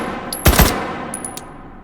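A UMP-9 submachine gun fires on full auto in the H3VR virtual reality game, a tight, loud burst of a few rapid shots followed by a fading tail and faint clinks of brass.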